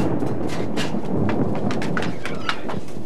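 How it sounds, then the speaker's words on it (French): A low, steady thunder rumble rolls on as a storm gathers, with a patter that sounds like rain over it, loud and continuous for about three seconds and without any voices. "Il va y avoir un orage."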